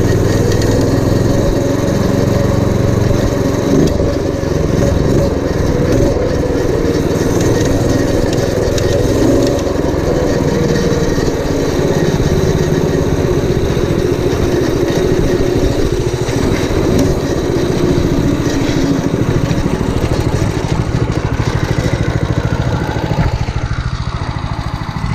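Predator 212cc engine on a home-built minibike runs steadily and loudly for the whole stretch, a close, continuous small-engine drone with slight shifts in pitch and no talking.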